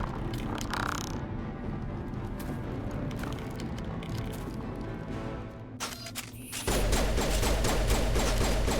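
Gunfire in Mass Effect Legendary Edition, a continuous rattle of shots under game noise that swells into a louder, denser volley near the end.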